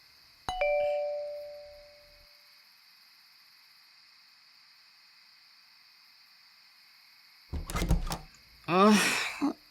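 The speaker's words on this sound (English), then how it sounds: "We can ring the doorbell." A doorbell chimes once, clear and ringing, fading over a second or two; after a pause, footsteps or knocking and a voice are heard.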